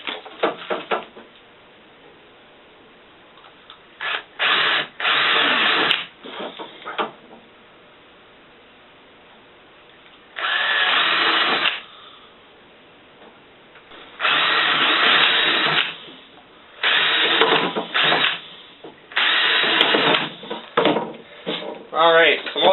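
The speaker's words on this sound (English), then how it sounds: "we're going to go ahead and drill some holes" A power drill boring holes in a wooden board, a series of loud whirring bursts of a few seconds each separated by quieter pauses, with some talk between them.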